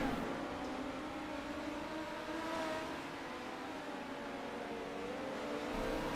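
Midget race cars circle the track at Kokomo in a steady, distant engine drone that holds level for the whole stretch, with no voices over it.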